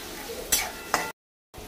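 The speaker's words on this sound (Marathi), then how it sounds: "आता आपण टाकूया ह्याच्यामध्ये बारीक चिरलेला कांदा। कांदा चांगला लाल होईपर्यंत आपण परतवून घ्यायचा आहे।" Finely chopped onion sautés in oil for batata poha, giving a soft, close sizzle with two quick stirring scrapes, then a sudden short gap of silence before the sizzle returns.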